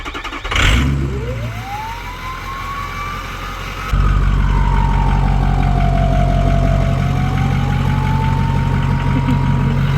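A 6.0 diesel truck engine with a hood stack cranks and fires, then settles into a steady, deep idle with a rising, wavering turbo whine.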